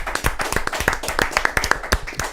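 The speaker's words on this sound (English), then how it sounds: "Let's clap it up, man." Audience members clap at a funk podcast show, a small group producing distinct, uneven sharp claps in a loose rhythm with no voices heard.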